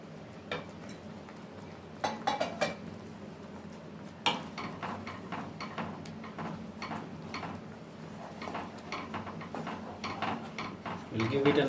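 A spoon clinks and scrapes in a pan while onion, green chilies, coriander powder and cumin powder are mixed for a paneer shahi korma gravy, giving scattered light taps over a soft background hiss.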